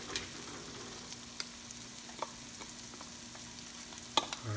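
Garlic fries alongside onions in a hot pan, giving a steady, quiet sizzle with a few faint clicks of stirring, with no talking.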